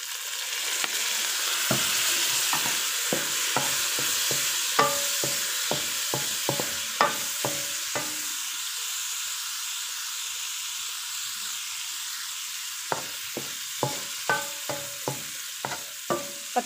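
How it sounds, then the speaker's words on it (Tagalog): Tofu half-fries in a pan for a stir-fry with shrimp, giving a steady bright hiss of hot oil with frequent spatula scrapes and taps as it is stirred, close and loud. "Fry ko muna yung tofu ng half fry lang"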